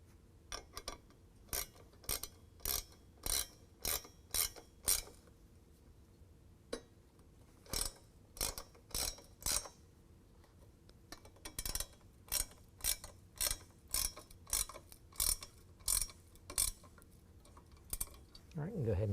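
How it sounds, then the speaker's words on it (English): A 13 mm wrench tightens a nut on a bed rack bolt on a 2022 Toyota Tundra fitted with a Retrax PRO XR cover, giving quick, close ratcheting clicks in short rhythmic runs separated by brief pauses. "hold the nut in place on the bottom, and then tighten that nut with a 13 millimeter"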